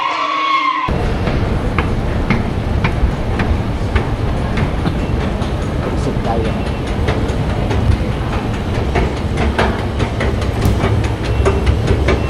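A train in an underground station roars steadily and loudly throughout, with rumbling wheels and faint rhythmic clacks from passing cars, up close and without talk.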